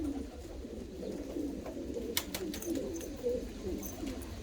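Hungarian pigeons coo softly, with repeated low rolling calls and a few light flutters or taps nearby.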